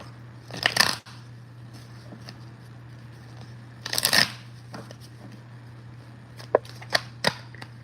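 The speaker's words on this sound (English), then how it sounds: "Let me pull a little more cards on this current situation with the crush." Tarot cards shuffled and pulled, with two crisp riffling bursts a few seconds apart followed by a few sharp snaps as cards are drawn, close and fairly quiet.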